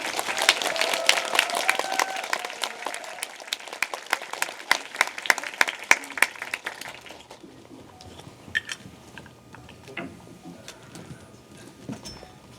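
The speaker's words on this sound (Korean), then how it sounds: "입장하실 때 큰 박수로 맞이해 주시기 바랍니다" A film-screening audience claps enthusiastically to welcome director Bong Joon-ho, dense applause that thins out midway into scattered claps and quieter room noise.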